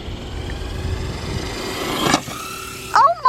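A radio-controlled car's electric motor whines steadily under throttle as it launches off a ramp, a rising tone breaking into a sharp warbling sweep near the end, fairly loud and close.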